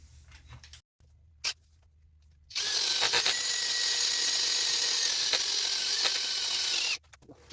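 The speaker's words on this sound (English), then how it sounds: "I'm just going to drill a flat spot for the jaws to sit" A power drill whirs steadily into a sissoo wood turning blank for several seconds after a couple of brief mechanical clicks, then stops abruptly.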